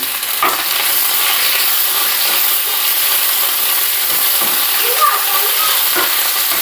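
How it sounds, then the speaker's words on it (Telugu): Garlic cloves, dried red chillies and curry leaves fry in hot oil, giving a loud continuous sizzle with intermittent stirring scrapes and clicks of a utensil against the pan. "ఇలా ఎండుమిర్చి అన్నది నూనెలో ఇలా మంచిగా ఫ్రై అవ్వాలి"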